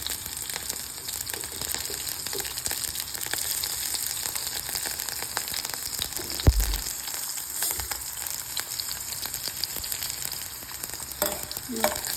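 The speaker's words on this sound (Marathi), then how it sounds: "फोडणी फुटली की आपल्याला त्यात लसूण आणि हिरवी मिरची टाकून घ्यायची." Garlic and green chillies crackle and sizzle in a hot spiced-oil tempering, a dense, steady frying hiss with a few sharper pops, close and loud throughout.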